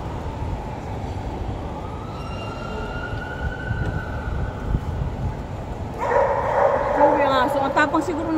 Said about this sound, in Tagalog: Ang tapang siguro ng aso na yan.